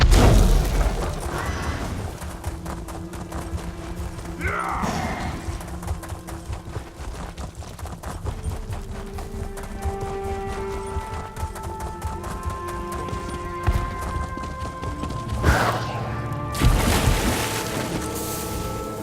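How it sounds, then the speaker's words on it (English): In Elder Scrolls Online, a horse neighs near the start while hooves clip-clop steadily under ambient game music, with water-like rushing and a couple of louder bursts later on. "I'm going to take the horse this time"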